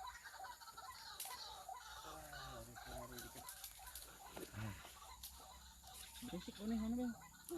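Chickens cluck in short, scattered bursts in an oil palm plantation in Baturaja. The calls are fairly close but quiet against a faint outdoor background, and there is a little low talk.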